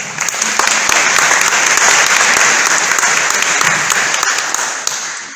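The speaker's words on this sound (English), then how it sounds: "Let's give a round of applause for Dr." Loud, close applause from a crowd at a Minnesota GOP gubernatorial debate, swelling quickly and holding steady before starting to taper at the end.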